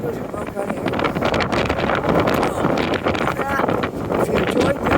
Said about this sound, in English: I'll be out walking around in the wind and it's really noisy